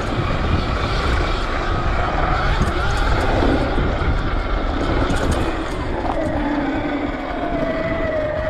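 A modified motocross bike engine revs hard at speed, giving a loud continuous buzzing roar with wind rush. The pitch wavers and then rises near the end.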